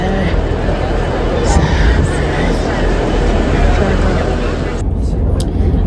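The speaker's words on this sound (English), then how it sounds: "So we're now back at the train station, just waiting to get on our train home." A dense, rumbling station ambience with mechanical hum and a constant crowd murmur, loud and continuous throughout.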